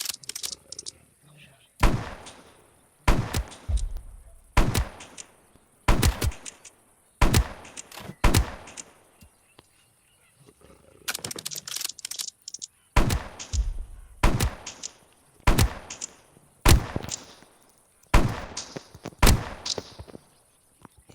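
Pistol shots in a video game, sharp single reports fired at a fairly regular pace over about twenty seconds, moderately loud, with some quiet speech between them.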